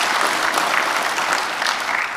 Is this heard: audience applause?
yes